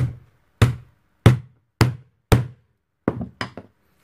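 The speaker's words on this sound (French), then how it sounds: "À remettre un coup de clou de marteau dessus" Hammer strikes on nails driven into a wooden board for homemade string art: five evenly spaced sharp knocks, then a quicker cluster of three lighter taps, close and loud with silence between.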